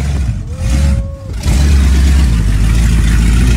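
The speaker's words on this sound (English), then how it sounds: "Big block engine." A heavy big-block car engine rumbles at idle at a car show, then opens up into a loud, steady, deep roar for the remaining few seconds.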